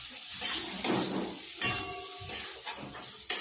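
Spice powders such as cumin, red chilli, garam masala and turmeric stirred and fried in a pan for green pulao, with several scraping spoon strokes over a soft hissing sizzle and no voices.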